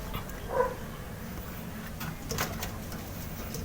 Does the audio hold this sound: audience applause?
no